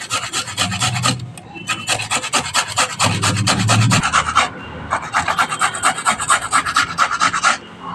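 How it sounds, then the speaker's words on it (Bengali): Potato being grated by hand on a metal grater: loud, close, steady rasping strokes in a quick repeating rhythm with a brief pause midway, no voices. "আলুটা ঘষা হয়ে গেছে।"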